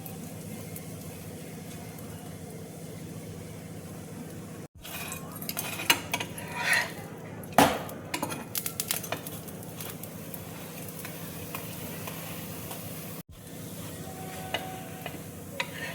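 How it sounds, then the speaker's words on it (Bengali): Paratha fries in ghee on a tawa, a steady close sizzle with clinks and scrapes of a spatula against the pan in the middle. "আমি দেখো এখানে ঘি দিয়ে ভেজে নিচ্ছি।"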